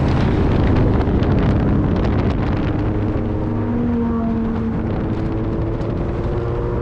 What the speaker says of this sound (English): there was one Toyota driver in an SUV who was very upset with the way all the supercars were driving and decided to blast by on the right side